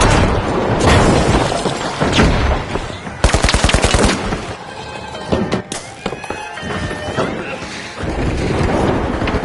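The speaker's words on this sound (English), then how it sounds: "Frag grenade set! Tossing it!" A frag grenade thrown and exploding in The Finals amid a firefight, loud bursts, rapid gunfire rattles and booming impacts layered over a dense, chaotic battle din, close and continuous throughout.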